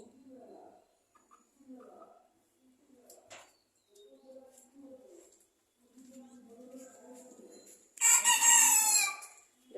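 A rooster crows loudly and close by near the end, following a stretch of people talking on a household veranda where pigeons and chickens are kept.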